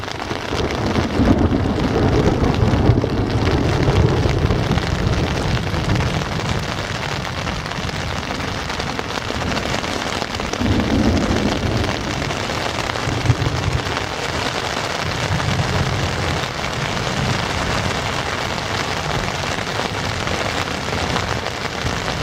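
Steady rain pattering on a tent during a storm in the Boundary Waters wilderness, a continuous close drumming hiss with occasional heavier gusts and swells, no voices.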